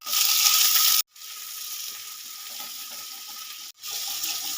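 Ginger paste frying in a mustard-seed and poppy-seed tempering in the pan, a loud steady sizzle broken by two brief pauses, with no voices.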